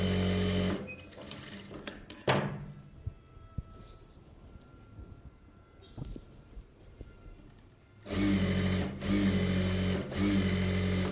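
A sewing machine runs in two bursts while edge-stitching an Aari work blouse: a short whir near the start, a quiet stretch with light handling, then a steady, loud run of stitching to the end.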